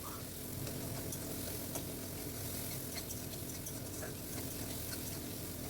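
Spices for a potato and pointed gourd curry sizzle steadily in a pan with tomato, salt, dried chilli, turmeric and chilli powder, a continuous close frying hiss with faint stirring clicks.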